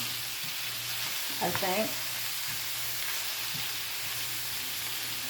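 Thin julienned zucchini frying in a pan, a steady close sizzle and hiss throughout, with a brief spoken remark partway through.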